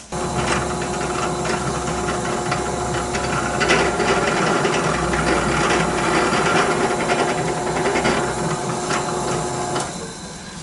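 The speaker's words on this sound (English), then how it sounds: "So we're looking at drilling a centering hole right there." A steady, loud mechanical whirring and grinding of a drill boring a centering hole in a wooden oarlock block for a dinghy runs continuously throughout, without pauses.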